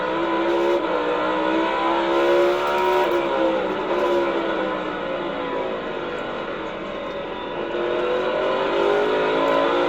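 NASCAR Cup Series race cars at Martinsville roar continuously at high revs, the pitch rising and falling as cars speed around the track, loud and sustained.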